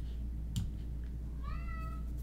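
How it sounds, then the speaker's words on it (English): A cat gives one short, clear meow near the end, fairly close, over a quiet background hum. "Dude, he is, like, meowing."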